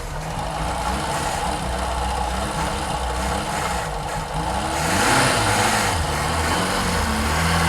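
A 1964 Vauxhall HA Viva engine, bonnet off, runs again after 19 years with a suspected fuel pump fault. It holds a steady, fairly loud idle, and the revs rise noticeably partway through.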